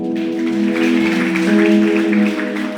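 A church congregation claps steadily through a short stretch, the even patter of hands blending with sustained sung or instrumental tones underneath.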